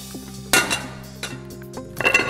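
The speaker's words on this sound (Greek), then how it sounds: "Να πάρετε μία κατσαρόλα." A metal cooking pot is handled and set down in a home kitchen while seafood and vegetable soup is prepared, giving a sharp clank followed by a few lighter clinks and knocks, close and clear with no talk.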